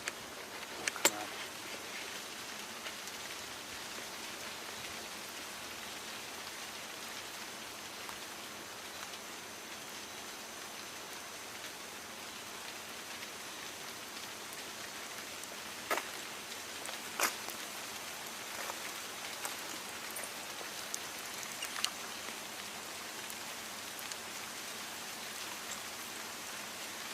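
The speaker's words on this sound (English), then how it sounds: "Yeah, now the rain picks up again." Rain falls steadily on outdoor surfaces, a soft continuous patter with occasional louder drops, fairly faint and even throughout with no voices.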